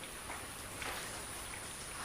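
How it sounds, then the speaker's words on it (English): Heavy rain pours steadily over a plant-growing area, a dense, even hiss of falling water with no breaks, moderately loud and close throughout the short span. "When it rains, it pours here"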